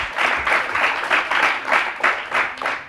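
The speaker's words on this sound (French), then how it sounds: "Allez-y, applaudissez Ahmed Salah." Audience at a school event applauding, a steady wash of many hands clapping with rhythmic surges, close and loud, no talking over it.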